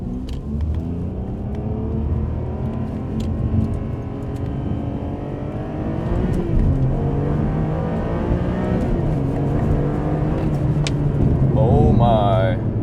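A Ferrari 575M engine droning loud and steady from inside the cabin as revs rise and fall, with blipped rev-matched downshifts. Someone talks over it throughout.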